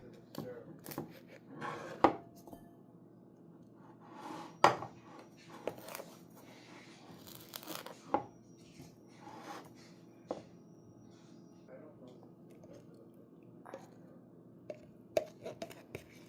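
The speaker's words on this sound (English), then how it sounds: "Only got about 3/4 cup left in the jar, so I'm just scraping out the jar." Cookie butter is scraped out of a nearly empty jar with a utensil: close, irregular scrapes and light taps against the jar's sides, some sharper clicks, with no voices.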